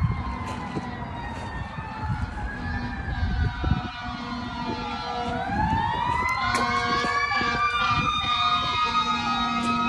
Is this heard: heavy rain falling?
no